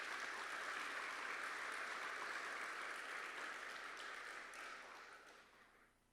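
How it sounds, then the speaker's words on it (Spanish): A church congregation claps steadily in a sustained, even round of applause that gradually fades toward the end. "Un aplauso para ellos."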